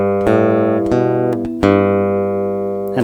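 A short acoustic guitar lick from a song is picked as a few distinct single notes, each struck clearly and left ringing with bright harmonics, played alone and close up.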